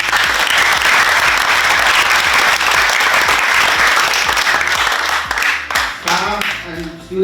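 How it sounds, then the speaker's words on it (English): A crowd at a high school Christmas tree competition claps in sustained, dense applause that fades toward the end as a voice starts speaking over it. "Let's give them another round of applause."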